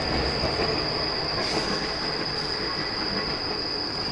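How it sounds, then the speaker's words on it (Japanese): A train rumbles steadily past close by, with a constant high-pitched wheel squeal over the clatter and no voices. "あ、電車が走ってる。"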